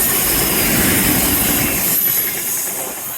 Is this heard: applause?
no